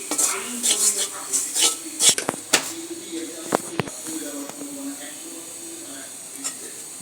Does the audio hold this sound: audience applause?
no